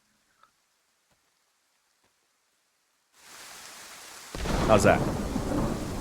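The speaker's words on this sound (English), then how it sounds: "That's the full sound of the rain." Rain and thunder in DayZ come in suddenly after near silence, a broad hiss of rainfall swelling and then joined by a loud low rumble of thunder with a sharp crack, under a brief spoken remark.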